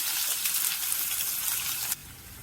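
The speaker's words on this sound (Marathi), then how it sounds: "त्यामध्ये आपण पण कांदा घालून घेऊया" Onion dropped into hot oil already holding cumin and mustard seeds sizzles loudly and evenly, a close, bright crackle that cuts off abruptly to a quieter hiss near the end.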